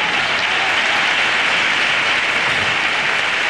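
Loud, dense audience applause at the close of a comedic stage parody by a carnival quartet, a continuous wash of clapping from a large crowd that stays steady throughout, with no voices over it.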